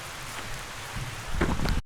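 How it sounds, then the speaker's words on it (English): Steady rain falls outdoors, a dense close patter of drops on surfaces that builds slightly toward the end before stopping abruptly. "Well, we're getting rained out again."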